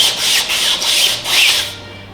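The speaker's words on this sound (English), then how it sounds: "we're just gonna sand" Rhythmic hand sanding of filler on a 3D printed submarine hull, a gritty rasping stroke repeated back and forth about five times, close and fairly loud with no talking.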